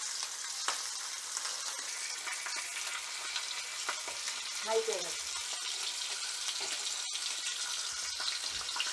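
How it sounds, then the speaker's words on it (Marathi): Flour-coated bangda mackerel frying in hot oil gives off a soft, even sizzle throughout, close but fairly quiet, with a few faint clicks and a brief bubbling burst partway through. "या बाकीच्या पण मच्छी आहेत त्या पण आपल्याला असाच पिठामध्ये बुडवून तेलामध्ये फ्राय करून घ्यायचे आहेत"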